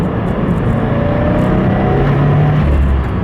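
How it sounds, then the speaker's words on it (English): A 2015 Subaru WRX with MRT Performance modifications accelerates hard from inside the cabin, its engine roaring loud and steady while a faint rising turbo whistle builds underneath. "when you do put your foot down, you hear the turbo spool out"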